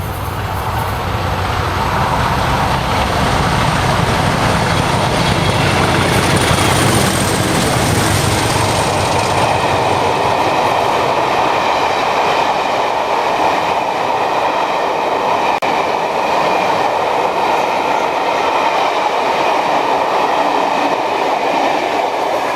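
Two Class 50 diesel locomotives return from Penzance through the Plymouth suburbs at Keyham. A loud, sustained engine roar comes up close, with wheel rumble and rail noise continuing throughout as the pair passes.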